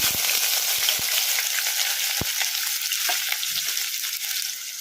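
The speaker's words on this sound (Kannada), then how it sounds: "ಈಗ ಇದಕ್ಕೆ ನಾವು ಕಟ್ ಮಾಡಿ ಇಟ್ಕೊಂಡಿದ್ವಲ್ಲ ಉಳ್ಳಾಗಡ್ಡಿ ಹಸಿಮೆಣಸಿನ್ಕಾಯಿ, ಇದನ್ನು ಹಾಕೋಣ." Onion and green chili hit hot oil with crackling mustard seeds and cumin, giving a steady loud sizzle with a few sharp low thumps of stirring, no voice, while a palak sambar tempering is prepared.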